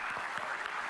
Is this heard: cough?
no